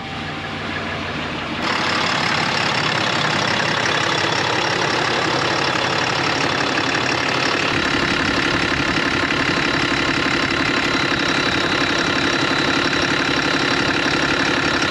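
A turbo-swapped truck engine turns over and settles into a loud, steady idle that rumbles continuously, close by, with no talking.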